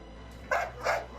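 A dog gives two short, sharp barks about a third of a second apart, at moderate distance over a low steady hum.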